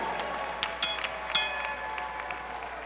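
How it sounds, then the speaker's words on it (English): Applause from a boxing crowd at Pechanga Arena after a preliminary bout on a fight night card, a moderate spread of clapping with a few louder bursts and whistles heard from a distance. "How about a huge round of applause for both of these warriors here in the ring."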